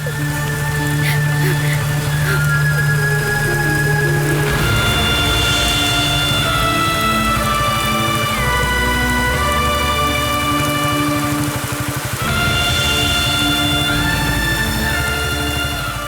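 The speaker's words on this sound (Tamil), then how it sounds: "நல்ல மழையில எப்படி நீ வருவ?" Heavy rain pours down steadily, a loud, dense hiss of drops on surfaces that never lets up, with faint tonal background music running beneath it.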